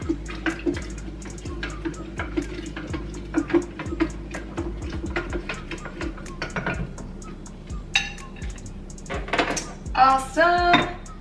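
A spoon stirs a pot while cooking a Thanksgiving meal at home, giving repeated scraping and clinking strokes in a steady rhythm, with a few louder metallic clinks near the end.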